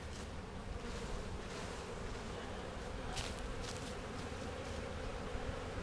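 Honey bees drone in a dense, continuous buzz during a hive split, fairly faint but steady throughout with no speech.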